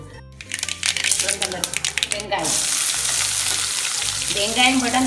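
A large onion hits two or three spoons of hot oil and sizzles loudly, a crackling fry that steadies into a constant hiss, with a person speaking over it.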